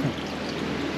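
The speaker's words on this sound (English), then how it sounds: "The water is running right now." Water running steadily through a hydroponic garden system growing Swiss chard, a continuous close trickling and pouring wash with no breaks.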